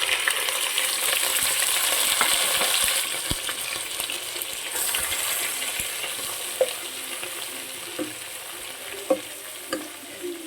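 Pieces of chicken hit hot oil already cooking with ginger and garlic, giving a steady loud sizzle that slowly settles, broken later by a few sharp pops and spatters.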